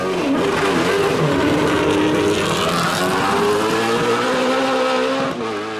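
Race cars in Forza Motorsport 6 roar off the start of a race, a dense, loud, continuous engine drone with rising revs and faint tire squeal, sustained throughout with no talk.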